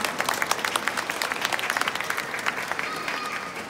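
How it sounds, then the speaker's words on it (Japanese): Audience applause for two Osaka Metro staff at a depot festival vehicle-lifting demonstration, a dense, steady patter of many hands clapping close by for nearly four seconds, with faint voices mixed in. "これからの大阪メトロを担う2人に大きな拍手をお願いします"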